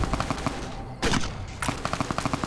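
Turret machine-gun fire in the video game Enclave Commander: rapid, evenly spaced bursts of shots, loud and close, broken by two heavier blasts midway before the steady rattling resumes.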